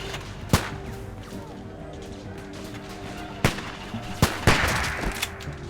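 Video game gunfire: a handful of sharp, isolated shots crack out, one early and a quick cluster near the end, over a low steady hum of background ambience.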